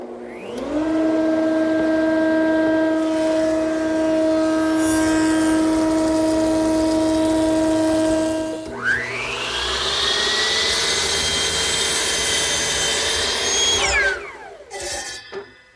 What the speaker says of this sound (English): The last step in the process is to surface plane the sawn edges